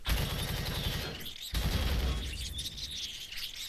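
Dense bursts of automatic turret gunfire at an abandoned drone base in the game Empyrion, loud and close, rattling steadily, breaking off briefly, then resuming with harsh impacts.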